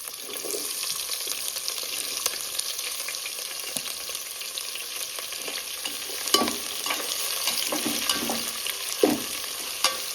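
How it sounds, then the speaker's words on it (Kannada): Onions frying in hot oil for homemade chicken biryani, a constant bright sizzle with occasional spoon scrapes and knocks against the pan, close up and without speech. "ಈಗ ಆನಿಯನ್ ಆ್ಯಡ್ ಮಾಡ್ಕೋತೀನಿ"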